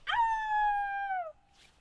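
A dog lets out a single long howl, starting with a sharp rise and then holding a steady tone before it cuts off, close and clear, followed by a faint trailing noise.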